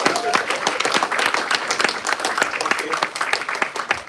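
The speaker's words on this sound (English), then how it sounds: "another round of applause" An audience applauds after a musical presentation about the In Re Baby M surrogacy case, with brisk, close, dense clapping that rises and falls throughout and a brief spoken word near the start.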